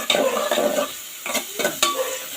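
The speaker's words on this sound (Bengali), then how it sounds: "প্রথমে কাঁচামরিচ আর পেঁয়াজটা আমি ভেজে নিচ্ছি" Green chilies and onion fry in hot oil in a pan, a loud continuous sizzle swelling and easing in a few waves as the pieces are moved around, with no talk.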